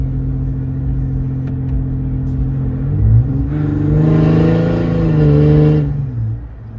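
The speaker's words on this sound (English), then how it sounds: "And so that's the 4 to 5 inch exhaust." A Ram EcoDiesel pickup engine through a 4 to 5 inch exhaust, heard from inside the cab with the back window open: a low steady diesel drone that swells into a deeper rev midway, then settles.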